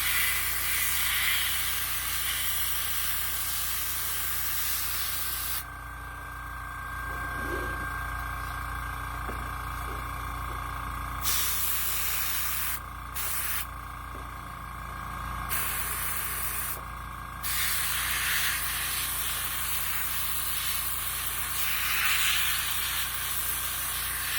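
Airbrush spraying paint onto a resin model kit of a shark, steady close hiss in long bursts that start and stop, with broadband air noise throughout and no talking.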